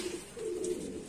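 Soft, low cooing from a pigeon, a steady murmuring call held for about a second at close range with no talk.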